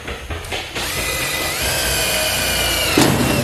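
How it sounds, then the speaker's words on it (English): A power drill whirs steadily and close up while drilling holes in wood into a 4x4, starting with a few short bursts before settling into a continuous loud drilling run. "I'm just going to drill a couple holes"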